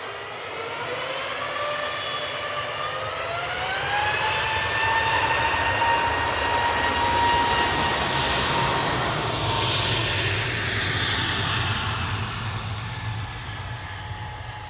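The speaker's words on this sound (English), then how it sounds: "A350-900 just touching down" Airbus A350-900 jet airliner touching down at Manchester Airport, a steady loud roar of engines with a rising and falling whine, sustained throughout at moderate distance.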